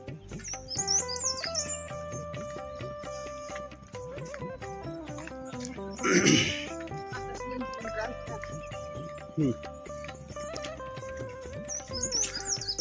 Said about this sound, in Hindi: पक्षियों के चिलचिलाने की आवाज़ें आ रही है